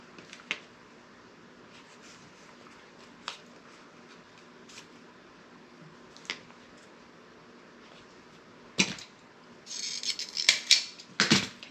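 Soft crisp snips of cheap school scissors cutting ribbon, sparse at first, then a denser flurry of sharp rustling cuts close by near the end.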